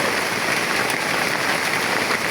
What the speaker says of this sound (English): Raining heavily.